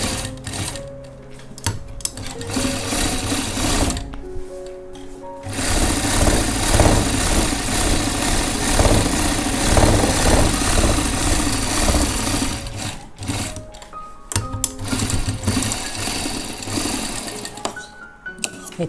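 Sewing machine stitching a jacket, loud bursts of fast mechanical clatter separated by short pauses, close up and without talk.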